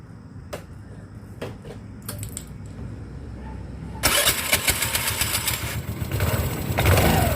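A scooter engine is started after its clutch (V) belt has been changed. A few scattered clicks come first, then the engine catches around midway and runs on with a loud, steady, buzzing idle with no talking.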